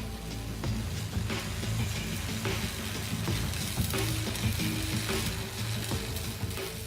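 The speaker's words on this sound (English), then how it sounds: "Jeremy welds the pins between two thick sheets of steel." Welding pins between two thick sheets of steel, a steady crackling sizzle with scattered sharp pops, continuous and fairly close throughout.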